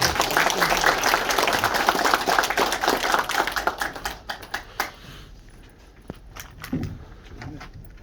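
Loud applause from a crowd of many hands at a lecture event in Gumi, South Korea, welcoming the mayor, sustained for several seconds and then thinning out into scattered claps.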